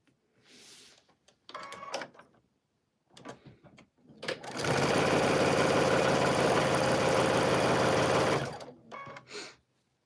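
A sewing machine stitching fabric, running in one steady loud whirring burst of about four seconds, with softer handling noises and brief clicks before and after.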